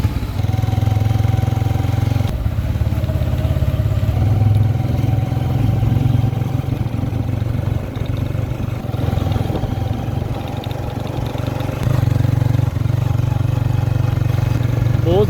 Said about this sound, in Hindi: बाइक निकाल लिया, चलते हैं जी आगे। स्टार्ट भी हो गया।